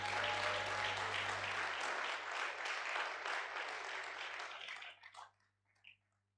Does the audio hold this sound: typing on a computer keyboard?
no